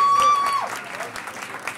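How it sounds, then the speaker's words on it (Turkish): Applause for birthday celebrants at a Latin dance social, a brief round of clapping from the crowd with a short whistle-like tone at the start. "Kocaman bir alkış edelim doğum günü çocuklarına"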